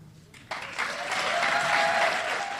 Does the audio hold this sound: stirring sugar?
no